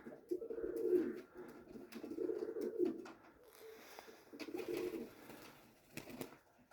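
Several flying pigeons coo softly in low, throaty bursts, repeating every second or so, with faint rustling between calls.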